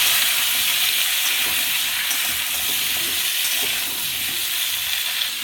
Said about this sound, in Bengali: তো প্রথমে তেলের মধ্যে একটু লঙ্কা আর রাঁধুনি তেল, এরপরে দিয়ে হালকা করে ভেজে নেব।